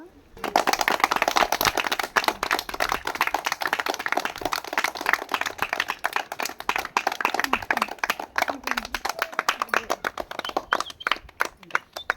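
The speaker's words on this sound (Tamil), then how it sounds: "கைத்தட்டுங்க கைத்தட்டுங்க" Small group of people clapping at a cake-cutting celebration, with close, dense, uneven handclaps that continue for several seconds.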